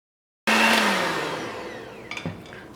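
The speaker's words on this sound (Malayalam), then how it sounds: "ഇത് ബീറ്റർ വെച്ചിട്ട് നന്നായിട്ടൊന്ന് ബീറ്റ് ചെയ്തെടുക്കുക" An electric beater whirs steadily through an icing sugar mixture for red velvet cake frosting, starting abruptly with a loud motor hum that slowly fades, followed by a few brief clicks and knocks near the end.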